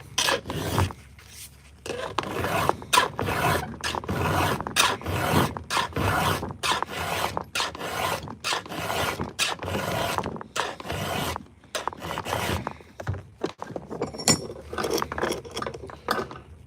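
Chainsaw chain sharpened by hand with a file, a close, fairly quiet series of rhythmic rasping strokes, each a short scraping burst with brief gaps, repeating steadily and unaccompanied by talk.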